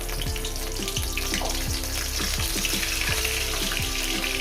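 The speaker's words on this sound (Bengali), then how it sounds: "মাছটাকে আমি সুন্দর করে ভেজে নিচ্ছি" Fish pieces fry in a pan of hot oil after a tempering of dried red chillies, for a fish and greens bhorta, giving a steady, close, dense hiss with faint clinks and no talking.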